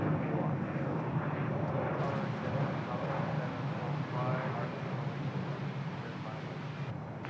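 A jet airliner lands at Bangkok airport, a steady broad engine roar held loud and close for the whole stretch, with radio voices talking faintly over it.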